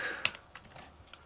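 Code being typed on a computer keyboard, a short run of quick, light key clicks with one sharper tap near the start, close but fairly soft, no speech.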